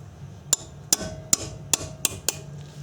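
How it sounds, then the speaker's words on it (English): A hammer lightly tapping the rusted banjo fitting on a frozen brake caliper, six sharp metallic taps spaced about half a second apart, each ringing briefly, close by. "Just tap it lightly."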